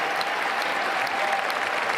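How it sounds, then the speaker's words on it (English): A crowd claps steadily, with thick, continuous applause at a constant level from start to finish and no voices standing out above it. "those people, you watching right now, they are clapping for you as well"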